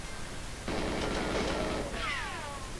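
A GoldenEye gunshot, a single broad burst of noise lasting over a second, then a short whistling tail that fades out.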